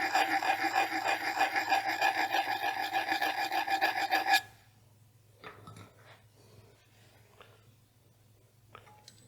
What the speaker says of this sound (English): take any existing burr off that I've got and then lightly hone the face